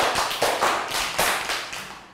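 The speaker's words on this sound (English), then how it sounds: "Round of applause for Prel." A class of young students gives a short burst of applause, a few quick, close claps.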